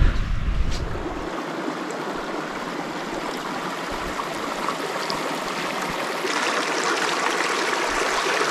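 A small mountain stream near a hut in the Varaita valley runs low during a drought, giving a steady, close, broadband rush and trickle of water that holds for the whole stretch with no voices.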